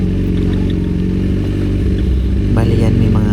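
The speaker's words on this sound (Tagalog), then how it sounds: "Ngayon po ay nagmotor tayo para makita natin kung pasok rin yung motor." A motorcycle engine runs steadily at close range while riding onto a white-sand beachfront lot, with a low rumbling hum throughout and a brief rising rev near the end.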